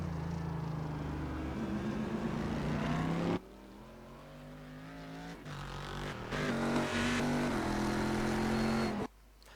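Race car engines roar steadily in the iRacing sim, with a Corvette pack of traffic close by. The engine drone shifts pitch as the cars change gears, then cuts out abruptly twice.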